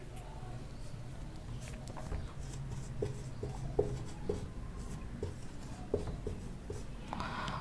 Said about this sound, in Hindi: तो मैं अब आपके सामने ये चीज़ें बोर्ड पर लिख